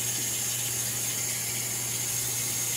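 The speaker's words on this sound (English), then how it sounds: "you just add some cold water" Cold water runs steadily from a kitchen tap onto cut potatoes, a continuous close, even rush with no breaks for the whole few seconds.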